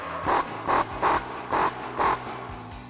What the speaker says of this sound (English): Take your 18mm socket to tighten it down.